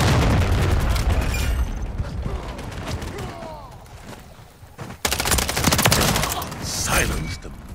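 Loud bursts of video game gunfire with mechanical clatter and booms, fading in the middle and then surging again near the end.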